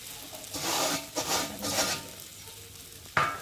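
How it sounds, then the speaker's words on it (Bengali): Semolina fried with potatoes and tomato in a pan while being stirred, soft scraping and sizzling in uneven bursts, fairly quiet, ending with a sharp knock. "আমি এখন ভেজে রাখা এই সুজিটাকে দিয়ে ভালো করে একটু ভেজে নেব"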